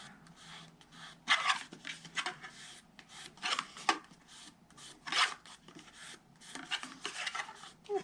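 Paper being rubbed by hand to press a glued edge on a chalk gift box craft, soft close rubbing strokes in irregular bursts, fairly quiet.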